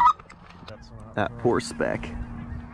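Geese honk repeatedly at close range while coming down to land, a run of nasal rising and falling calls during a hunt, with a man's brief murmured words early on.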